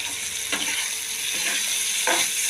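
Lentil fritter curry masala sizzling and frying in a pan, a loud continuous hiss with a few stirring scrapes, close and without speech.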